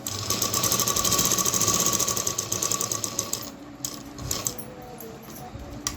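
A sewing machine stitches a saree skirt with a steady, rapid mechanical clatter, close and fairly quiet, slowing and becoming intermittent toward the end.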